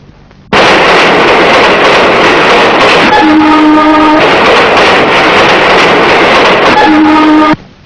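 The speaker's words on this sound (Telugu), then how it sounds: "రైలు." A train passes loudly in a Telugu movie scene, a dense rumbling clatter of wheels on rails that starts abruptly, with bursts of horn tones in the middle and again near the end before stopping.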